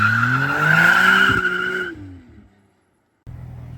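A McLaren Artura Spider launching hard from a standstill, with loud close tire squeal and a rising engine note that fade away within two seconds. Near-silence follows, then a low background rumble returns.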